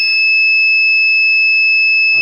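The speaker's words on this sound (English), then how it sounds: "we can hear the noise coming from the buzzer" An electronic buzzer on an ESP32 warning-system project gives one loud, steady high-pitched tone that holds unbroken for about two seconds, alone with no talk.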